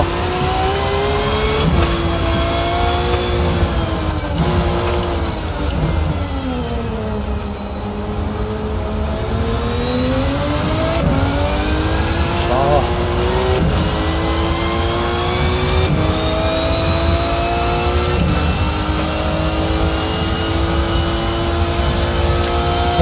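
Racing cars in a Rennsport sim race at Daytona at night, GT3 and hypercar classes, roar continuously with rising and falling engine pitch as several cars rev and shift through the whole stretch, loud and close with no talk.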